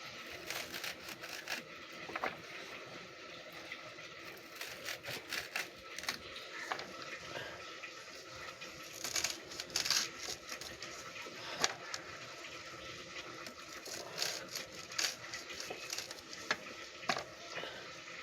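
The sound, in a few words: chopping red amaranth greens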